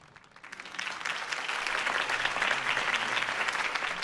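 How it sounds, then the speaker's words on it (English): Applause swells quickly from quiet to a full, sustained clapping of a sizable crowd, staying loud and even to the end. "could have heard that applause"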